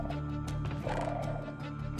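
Horse neighing in the Minecraft video game, a drawn-out whinny over steady game background sound with some clip-clop of hooves, loud and close throughout.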